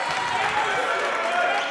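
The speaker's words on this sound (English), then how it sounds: "the crowd gives Johnson a hand for his feistiness" Basketball crowd at a 1992 East Brunswick High School boys game against St. Joseph applauds a player, a steady, dense wash of clapping and cheering filling the gym for the whole moment without pause.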